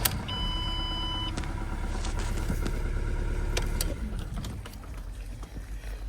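A Ford Transit MK7 van with its engine management and ABS warning lights on cranks, fires and settles into a steady diesel idle, heard close up with a dashboard chime at the start.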